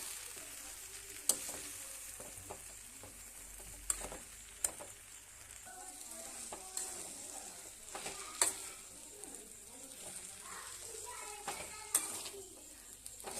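Leftover chapati pieces tossed and stirred with masala in a pan, a soft continuous sizzle punctuated by repeated scraping and clinking strokes of the spatula at irregular intervals, close by, with no talk over it.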